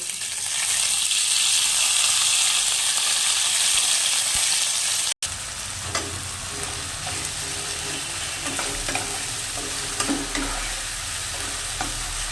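Spice paste of cumin, ginger and chilli fries in hot oil for a katla fish curry, a loud continuous sizzle that cuts out for a moment and then carries on with faint stirring scrapes.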